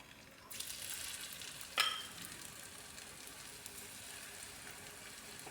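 Okra coated in gram flour batter drops into hot oil over medium-low heat, setting off a sudden, close hiss that settles into a steady, even sizzle, with one brief clink near the start.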